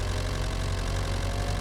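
A tractor engine idles steadily in Farming Simulator 25, a low, even rumble with a faint knocking texture, close and continuous with no talk.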